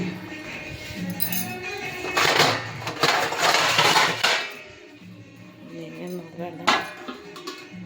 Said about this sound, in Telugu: మొత్తం మూత అయితే పెట్టుకుందాం.